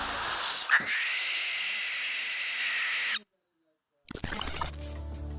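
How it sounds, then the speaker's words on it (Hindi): A barn owl gives a long, harsh, hissing scream lasting about three seconds, loud and close, followed by a brief silence and then a voice speaking. "बार्न आउल एक रहस्यमयी और रात में सक्रिय रहने वाला उल्लू है जिसे उसकी डरावनी और असाधारण उड़ान शैली के लिए जाना जाता है।"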